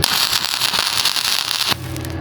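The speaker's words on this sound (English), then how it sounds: "It's definitely a tack weld." Tack welding with a Harbor Freight 3-in-1 welder gives a close, steady, harsh crackling sizzle that runs about a second and a half, then cuts off abruptly.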